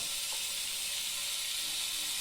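Masala-coated fish pieces on an oiled pan over a low flame make a steady, even hiss of sizzling oil, close and continuous, with no talking.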